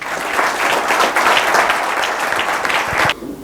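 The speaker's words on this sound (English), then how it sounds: "With huge round of applause." Loud, dense applause from an evening ceremony audience greeting an honoured IAS officer, sustained and even for about three seconds, then cutting off abruptly into near quiet.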